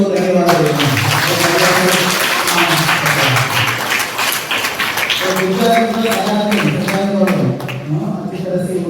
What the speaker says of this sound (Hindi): उनको ताली बजा के हम लोग धन्यवाद देते हैं